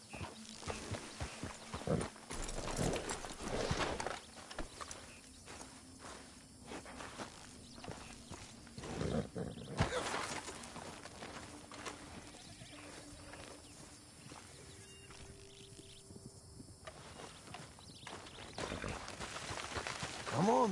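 Hooves clip-clop irregularly as a horse walks over a noisy outdoor background, the footfalls fairly faint and mixed with scattered knocks and rustles.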